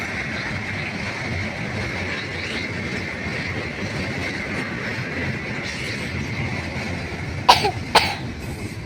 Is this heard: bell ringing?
no